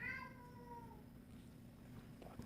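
A house cat gives one faint, drawn-out meow that fades over about a second, followed by quiet room tone.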